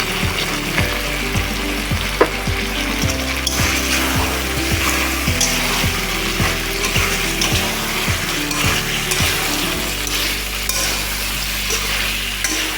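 Chicken curry sizzles steadily in a pan as fried potatoes and ground dry chilli paste are sautéed in, with continuous frying hiss and repeated rhythmic scraping of a spatula over an ongoing background tone.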